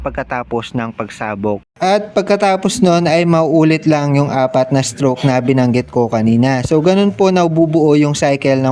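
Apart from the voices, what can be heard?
No everyday noise stands out behind the speech.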